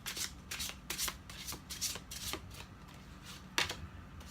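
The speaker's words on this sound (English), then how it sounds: "I'll very quickly shuffle and draw us a card" A tarot deck is shuffled by hand in quick riffling bursts, close and crisp, repeating about a dozen times with no talking.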